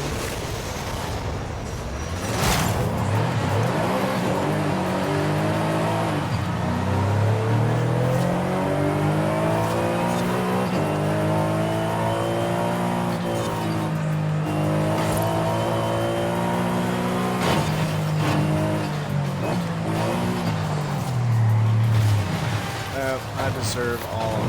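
An overpowered race car engine is driven hard on a track, loud and close, revving up and down through gear shifts with occasional tire squeal, while someone talks throughout.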